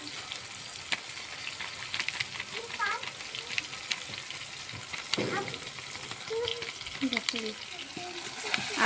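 Mutton curry masala sautéing in a pan, a steady moderate sizzle with occasional spoon scrapes and light knocks, close-up, with faint murmured speech now and then underneath.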